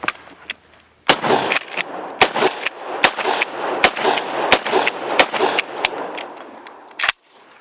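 A shotgun fires a rapid string of loud, sharp blasts, about a dozen close reports spaced unevenly over several seconds, each with a short metallic ring and echo. No voices are heard.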